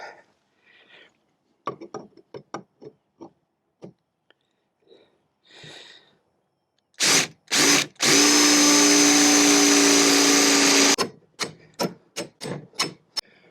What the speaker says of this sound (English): let's drill our hole